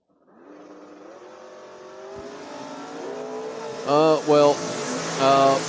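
Ben Saya's 1966 Chevy drag car with a 643 engine builds revs at a creek drag strip event, its engine note climbing steadily and then breaking into loud surging bursts near the end. An announcer talks throughout.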